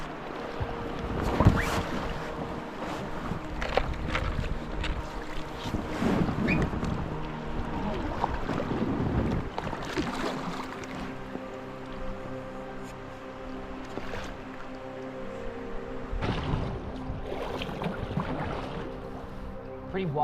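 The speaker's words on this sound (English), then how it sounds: "What we're gonna do now is get back in the pack rafts, head down the river and head back up" Pack rafts moving down a river in Tasmania, with splashes and paddle strokes, water movement and gusts of wind noise on the microphone, varying in loudness and close by.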